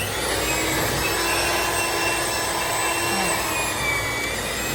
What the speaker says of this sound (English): Okay, so you want to turn on your mixer.